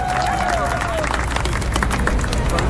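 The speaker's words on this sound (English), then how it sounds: "A big round of applause for the kids for their dances." Audience applause and cheering for children's dance performances at a live event, with loud steady clapping and crowd noise filling the whole moment.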